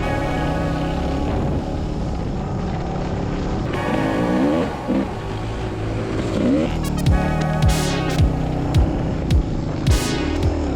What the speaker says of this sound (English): I'm on the DR 250, and we're riding some river tracks on the Selwyn River